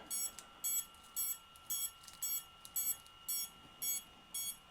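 FPV drone goggles emit a rapid series of high-pitched beeps, about two per second, steady and clear against a faint hum.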